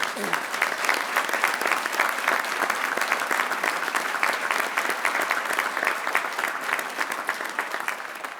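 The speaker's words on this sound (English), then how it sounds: "If you could please join me in a round of applause." Audience applause at a fire department recruit graduation ceremony, a full room clapping steadily and evenly at close range for several seconds, with no speech over it.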